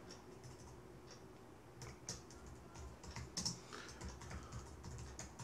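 Fingers type an SQL query on a computer keyboard, producing a soft steady run of key clicks over a faint background hum.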